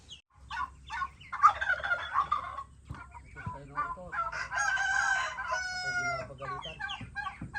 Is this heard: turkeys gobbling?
yes